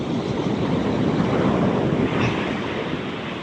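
Water rushing at a creek crossing near the surf, a steady broadband wash of flowing water and waves with wind buffeting the microphone, continuous and close, no voices.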